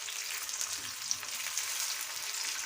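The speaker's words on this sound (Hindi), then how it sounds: "इसलिए आपने इसको मीडियम फ्लेम पे भी फ्राई करना है।" Chicken gola kabab frying in oil over a medium flame, a dense continuous hiss and crackle with small pops, close and steady, no talking.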